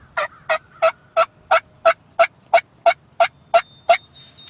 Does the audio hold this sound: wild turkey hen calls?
yes